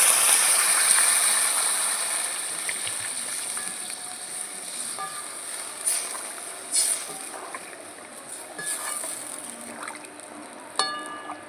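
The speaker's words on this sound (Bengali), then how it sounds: "আমি এখন পরিমাণ মতন জল দিয়ে দেবো" Water is poured into a spiced singhi fish curry with green banana and potato in a cooking pot, a broad rushing hiss that is loudest at the start and then tapers into a quieter background, with no voices.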